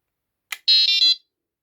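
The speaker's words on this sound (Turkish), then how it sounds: "Alarmımız şu an çalıştı. Komut verdi." Prologic 4+1 carp fishing bite alarm powered by a 12 volt battery, sounding just after the battery goes in: a brief click followed by a loud, steady electronic tone in two close bursts, heard alone.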